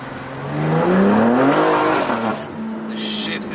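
A 2025 BMW G80 M3 revs hard under acceleration, its engine note sweeping upward through several rising pitches with sharp drops at each gear shift, loud and close from inside the car, with an excited voice talking over it.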